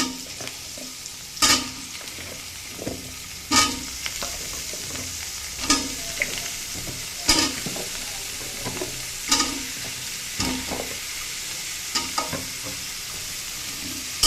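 Vegetables fry in hot oil for bhuna khichuri, a constant sizzle punctuated by sharp scraping stirs roughly every two seconds, close-up with no voices.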